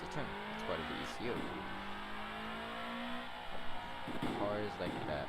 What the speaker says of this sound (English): they would just redline and hear the pops from it.